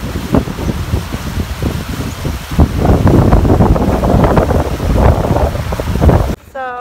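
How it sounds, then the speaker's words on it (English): Strong wind buffets the microphone outdoors at Bruce Peninsula National Park, a loud continuous rumble with gusting surges, and a brief faint voice near the end. "the wind is really biting right now"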